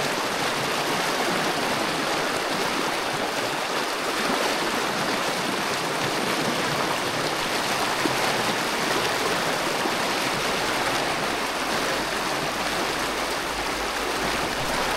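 A fast-flowing river current rushes steadily where it meets calm water during a fly-fishing outing, a continuous close wash of turbulent water with no voices.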